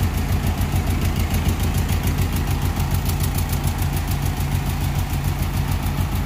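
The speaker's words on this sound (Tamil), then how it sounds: "ஸ்டார்ட் பண்ணி லூப் பண்ணி ஓடிட்டுருக்கு." A Mahindra Xylo diesel engine runs at a steady idle after being fitted, giving a loud, continuous rhythmic chug close up with a faint knocking pulse and no talking.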